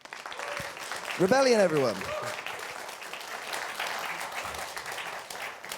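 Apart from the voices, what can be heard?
audience applause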